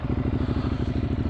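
A motorcycle engine starts and settles into a steady, close idle, its pulsing rhythm throbbing loudly and evenly throughout with no talking.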